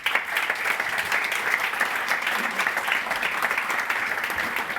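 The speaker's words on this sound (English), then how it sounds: "they really deserve a round of applause" Audience applause after a conference panel on gas grids and decarbonisation, a steady wash of clapping hands filling the whole stretch at even loudness with no voices over it.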